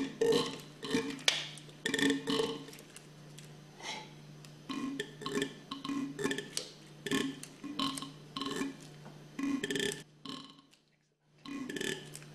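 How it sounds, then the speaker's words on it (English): A Hypro diaphragm pump clicks and gurgles in a rapid, uneven rhythm of valve knocks over a steady low hum, close by, with a short gap near the end. "That sound is the valves working."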